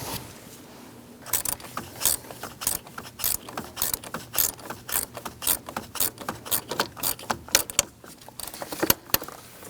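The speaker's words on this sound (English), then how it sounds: "And now I'm going to continue to tighten my bolts down." Ratchet tightening thermostat housing bolts on a Chevrolet Cruze 1.4L, a steady run of sharp, close clicking strokes in quick rhythm, bursts of ratcheting repeating under a faint hum.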